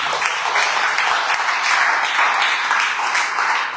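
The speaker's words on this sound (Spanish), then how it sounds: "Hónrale con un fuerte aplauso." Loud, dense applause from a church congregation rolls on without a break, many hands clapping together in a sustained wash of sound.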